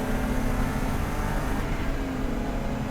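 Race car engine at Lime Rock Park during a Gridlife GLTC race, droning loud and steady in-car as the tires go light over a hill crest, with dense broadband road and wind roar throughout.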